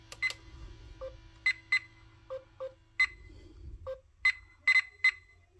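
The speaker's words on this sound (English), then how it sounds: "It's just some beeping sounds" A string of short electronic beeps and chirps from a Playmates 2023 USS Enterprise NCC-1701-D toy starship, in irregular bursts of one or two tones with brief pauses between, over a low hum.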